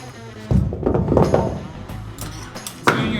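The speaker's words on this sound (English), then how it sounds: "Gonna strip off the weight here." Heavy gym weight plates being stripped off a leg machine mid-set, with several loud metallic thunks and clanks up close, followed by lighter clinks and handling noise.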